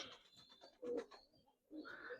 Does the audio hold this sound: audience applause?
no